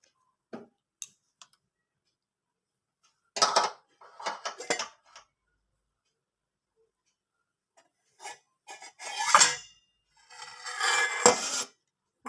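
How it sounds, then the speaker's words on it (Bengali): A lid comes off a bowl of steamed hilsa with chillies and oil, giving scattered clinks and scrapes of metal in short bursts, close and fairly soft, with quiet pauses between them. "এবার আমি ঢাকনাটা খুলে দেখব কেমন হয়েছে"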